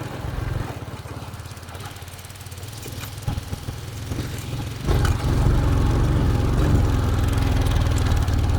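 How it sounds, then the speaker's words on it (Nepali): A small TVS motorcycle engine hums steadily up close, growing louder and rougher halfway through as it revs. "टिभीएसको एउटा सानो बाइक हो"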